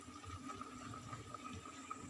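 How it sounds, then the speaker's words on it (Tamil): Soft bubbling and churning of water in a pot, a quiet continuous simmer with small irregular pops. "தண்ணி நல்லா கொதி வந்துச்சு."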